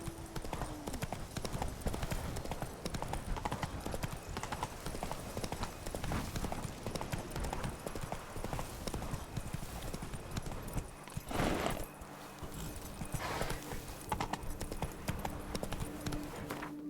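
Horse hooves clip-clop at a steady galloping rhythm in The Witcher 3: Blood and Wine, loud and close, carrying on without pause apart from a short break near the end.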